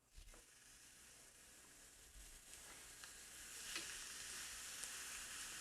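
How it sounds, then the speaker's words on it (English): Ham steaks sizzle on a grill, a soft, steady frying hiss that swells slightly toward the end, with no voices. "I'm going to put our ham steaks right on the grill already."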